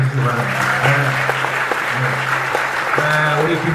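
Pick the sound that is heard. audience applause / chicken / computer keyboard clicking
audience applause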